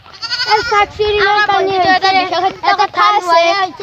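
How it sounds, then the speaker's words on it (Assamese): Loud, wavering bleats from two goats close by at a quiet village temple, calling almost without pause. "এই মন্দিৰটোত এৰি দিয়া ছাগলী এই দুটা।"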